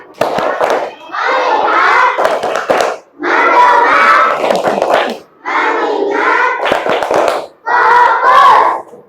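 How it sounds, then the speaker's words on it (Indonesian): A group of primary school children chant and clap together in rhythmic bursts, loud and close, with sharp claps punctuating their shouted call-and-response. "dengarkan. Tepuk fokus."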